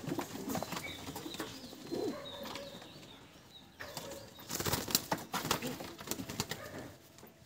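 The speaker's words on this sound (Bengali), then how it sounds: "আর এই একটা পায়রা দেখুন।" Pigeons from a Magrahat market collection, including a kagoji pigeon, coo in soft low bursts with wing flaps and fluttering, a busy, close flock sound that swells in the second half.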